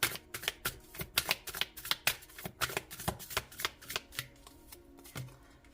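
Tarot cards being shuffled in a steady run of crisp, close riffling snaps with short pauses between bursts, heard alone with no talking.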